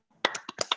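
Several sharp hand claps, five in under a second, ring out close and clear in a Zoom meeting, spaced unevenly and with no talk over them.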